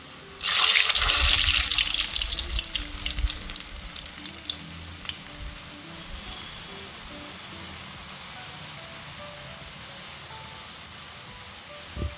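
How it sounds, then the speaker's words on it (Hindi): Tenkool dough sizzling as it drops into hot oil, a loud burst of frying that settles into a steady, softer bubbling hiss with no talking. "और ऐसा ही तलेगा।"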